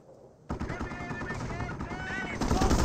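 Gunfire in the real-time strategy game Company of Heroes: loud, dense bursts of game battle noise erupt abruptly and continue steadily, with rapid shots layered over explosions and ambient combat.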